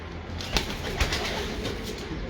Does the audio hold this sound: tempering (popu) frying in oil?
no